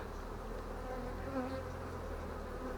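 Honey bees buzz steadily and close around an open hive full of acacia honey, a continuous droning hum with no talking.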